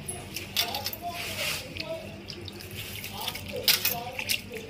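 Food being washed in a bowl of water, close sloshing and splashing with small clinks in uneven bursts, while a voice talks over it.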